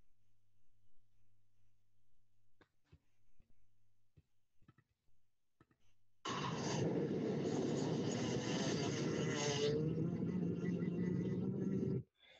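A racing kart engine opens up after a quiet stretch of faint clicks, roaring loud and sustained for several seconds before cutting off abruptly.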